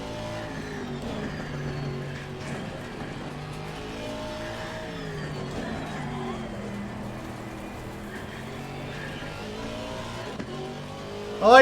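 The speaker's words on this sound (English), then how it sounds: "I like to hear the particles in the dirt hitting the undercarriage of the car." A race car engine in Assetto Corsa Competizione drones and revs continuously with gravelly rumble from the tires on dirt and dirt particles hitting the undercarriage, with no speech.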